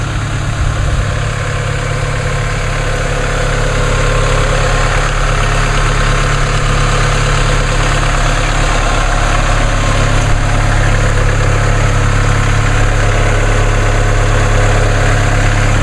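A 2016 Chevrolet Colorado with the Duramax diesel idles steadily after a cold start on a cold day, a loud, close, continuous rumble with an even mechanical clatter throughout and no voices.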